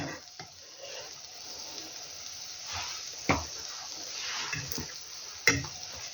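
Apple fritters frying in a pan give off a steady, moderate sizzle, with a few sharp clicks and taps of a utensil scattered through it and no talking.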